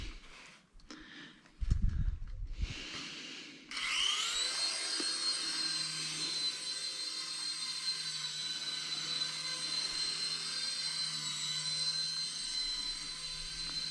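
A Hornet mini RC helicopter flies at full throttle, its high, steady electric whine spinning up after a few handling knocks and then holding loud and close for the rest of the time.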